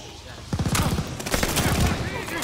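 Gunfire in Call of Duty: Vanguard, a rapid crackle of repeated shots in bursts mixed with game voices and battle noise.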